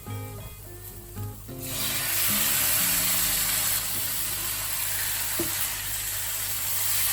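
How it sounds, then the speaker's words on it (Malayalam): Chicken liver goes into a hot pan and a loud, close hiss of sizzling swells up and continues, broken by a few stirring scrapes and clinks, with no talking. "ഇനി നമുക്ക് ഇതിലേക്ക് ക്ലീൻ ചെയ്ത് വെച്ചിരിക്കുന്ന ചിക്കൻ ലിവർ ചേർത്ത് കൊടുക്കാം."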